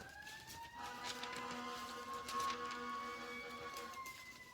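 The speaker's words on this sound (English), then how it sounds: "Forget that siren in the back." A wailing emergency siren drifts in from a distance, a faint, steady rising and falling tone beneath quiet background noise, with no speech over it.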